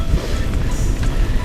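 Strong headwind while cycling along the Baltic coast roars steadily across the microphone, a heavy low buffeting rumble with no voices.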